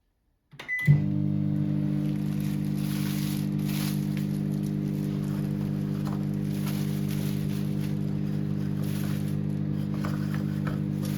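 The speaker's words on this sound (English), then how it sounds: "I'm going to pop this in the microwave just to melt the butter." A microwave oven melting butter starts with a click and settles into a steady low hum with a faint whirring, running continuously and fairly quiet.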